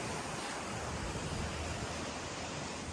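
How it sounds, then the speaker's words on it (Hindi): Steady broadband rush of a village river flowing in rainy weather, recorded close and outdoors, continuous with no pauses and no talking. "पानी यहाँ से आ रहा है गाइस,"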